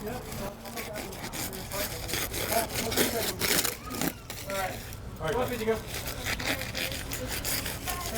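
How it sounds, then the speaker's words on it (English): Taro plant on Maui being cut into strips for rope, with repeated close rasping, tearing and scraping strokes of uneven rhythm, while a person talks over them. "So I'll just cut some strips."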